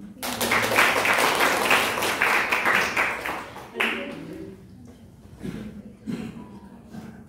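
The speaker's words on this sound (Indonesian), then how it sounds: "tepuk tangan buat ini" Students in a classroom during a lesson on measuring angles and time break into a brief burst of loud, close applause. It quickly thins to a few scattered claps, with voices talking in the room.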